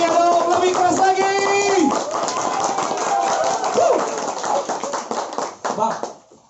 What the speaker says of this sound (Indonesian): Tepuk tangan Bang Setia dong, lebih keras lagi